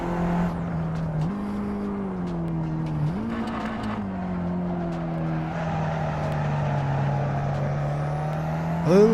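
Sim-racing car engine in Assetto Corsa, a steady loud drone whose pitch rises and falls with upshifts and downshifts through a corner, RPMs sagging mid-turn before climbing again near the end.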